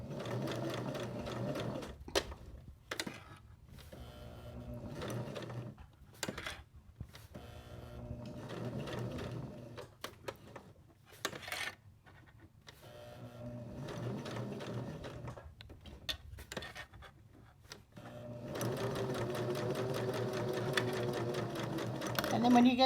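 Sewing machine stitching a fabric bunny ice pack, bursts of rapid mechanical whirring that stop and start, ending in a longer steady run, with a voice talking between and over the stitching.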